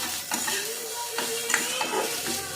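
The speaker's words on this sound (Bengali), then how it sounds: "সবজির সঙ্গে পাস্তাটা দিয়ে ভালো করে ভেজে নিয়ে" Pasta and vegetables frying in a pan, a steady close sizzle with intermittent stirring scrapes and clinks of a utensil against the pan, no talk.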